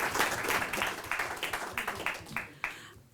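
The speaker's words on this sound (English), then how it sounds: "he does deserve a round of applause" Meeting audience applauds, starting as a full round of clapping and thinning into scattered, separate claps that fade away over a few seconds. The applause is moderately close.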